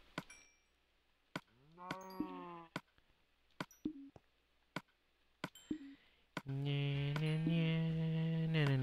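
Minecraft sheep bleat several times in short wavering calls, some overlapping, then a long loud sustained bleat near the end, set against sharp clicks of game actions, with no talking.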